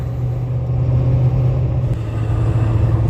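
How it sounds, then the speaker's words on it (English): Ford 6.7 Powerstroke diesel pickup cruising on the road after a breakdown, a steady low engine drone and road rumble heard from inside the cab, without talk. "Oh yeah, back on the road, building boost again."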